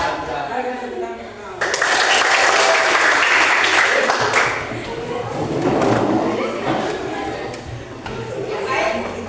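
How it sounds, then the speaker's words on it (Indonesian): A school class claps hands together in applause, a dense burst of clapping that starts sharply and swells and fades over several seconds, with children's voices and chatter mixed in. "Mari kita tepuk tangan."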